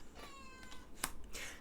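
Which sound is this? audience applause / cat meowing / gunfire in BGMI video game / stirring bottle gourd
cat meowing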